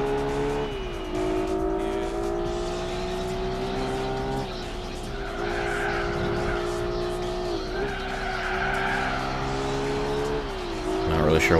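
Race car engine in Gran Turismo 4 during a Polyphony Digital Cup extreme event, a steady loud drone that drops in pitch with a few shifts and downshifts, with faint tire noise and a brief louder surge at the end.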